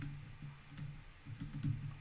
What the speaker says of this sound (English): This is where I'm going to type in PLESK dot and then the domain.